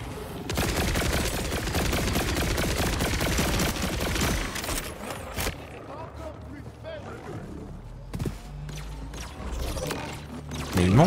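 Rapid automatic gunfire from Borderlands 4 rattles loudly for about five seconds, then gives way to scattered shots, clanks and mechanical reload noises with game sounds beneath.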